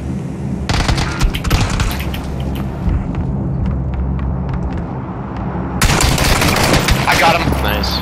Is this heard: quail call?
no